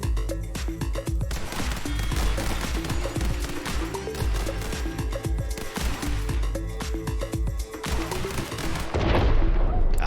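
Rapid Uzi bursts in the video game The Hong Kong Massacre, dense overlapping gunfire with crashes and impacts running nearly nonstop for ten seconds, loud throughout and ending in a heavier blast.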